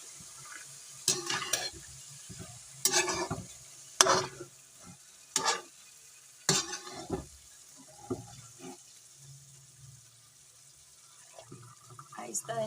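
Cream (malai) being stirred into pumpkin halwa in a pan: scraping spoon strokes and soft wet sizzling in uneven bursts, with quieter pauses between, close by.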